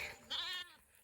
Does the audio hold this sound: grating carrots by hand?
no